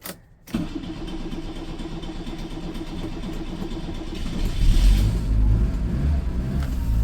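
A Nissan S-Cargo engine catches after a brief start and settles into a steady, smooth idle close by, with a slight rise in low rumble toward the end.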